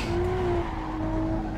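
Supra tuned to 1300 hp in Assetto Corsa, skidding under handbrake: steady engine drone with a sustained tire squeal, loud and close, with no talk.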